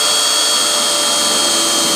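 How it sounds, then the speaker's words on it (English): A power drill grinds through a car body spot weld, making a loud, sustained high-pitched whine with gritty metallic hiss that holds steady throughout, no voices. "I just go with a bigger drill bit so I can get that exact diameter to where the spot weld is off"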